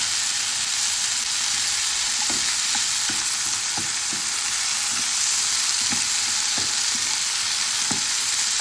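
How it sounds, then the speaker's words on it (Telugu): Cut, washed potatoes frying in a pan for a spinach potato fry, a loud constant sizzle broken by repeated light scraping and tapping as they are stirred, close up with no talking. "పొటాటోస్ని మనం ఫ్రై చేసుకోవాలి"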